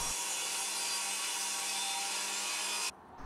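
A power tool cuts the round-over off a wooden 2x3 frame piece, a loud steady high whine with the sound of chewing wood that stops abruptly near the end, close-up with no voices.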